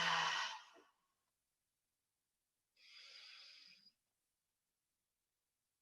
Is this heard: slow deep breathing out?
yes